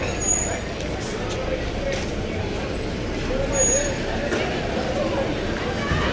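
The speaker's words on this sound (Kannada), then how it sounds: "ಆಲ್ರೆಡಿ ಮೂವ್ ಆಗ್ತಾಯಿದೆ ಗಾಡಿ." A bus rumbles as it moves off at Chitradurga bus stand at night, a steady low engine drone with a brief air-brake hiss and squeal, people talking over the noisy station.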